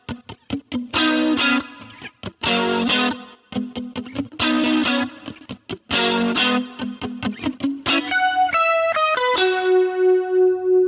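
An electric guitar plays a lead part through effects, with bursts of rhythmic chopped chords, then ringing single notes that step upward and sustain, loud and up close with no voices.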